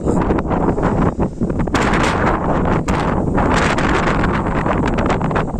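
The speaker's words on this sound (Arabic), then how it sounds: "طبعا كمان صوت الرياح مانع وصول تسجيل صوتي" Strong wind of about 30 km/h buffets the microphone in loud, continuous roaring gusts with rumbling bursts at a beekeeping site in Farafra, Egypt, and no voices are heard.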